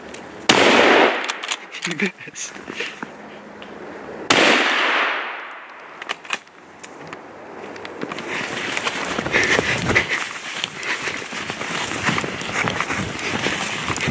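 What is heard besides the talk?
rifle shots during a deer hunt in snow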